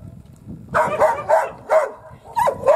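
A dog barks outdoors by a river in a quick run of five or six sharp, evenly spaced barks at moderate distance over faint background noise.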